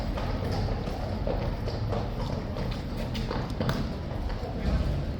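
Horses' hooves clip-clop at Horse Guards in London, a steady stream of clopping under constant crowd chatter and outdoor noise.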